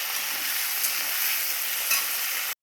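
Cut vegetables and split green chillies sizzle steadily in a hot pan in a home kitchen, a loud, continuous frying hiss with no talk, ending abruptly.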